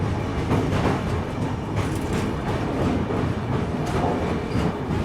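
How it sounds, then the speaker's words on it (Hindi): Steady rumble and clatter of an Express train moving along the line, heard from inside a 2AC sleeper coach just out of New Jalpaiguri, with continuous wheel noise and a loud, even roar throughout. "अभी NGP से ये ट्रेन चली ही है।"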